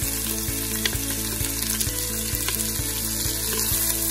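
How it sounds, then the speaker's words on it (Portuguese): Onion fries in a pan for caldo de quenga, a loud, close, continuous sizzle over a steady low hum with faint regular ticks; no voices. "Dá essa fritadinha na cebola."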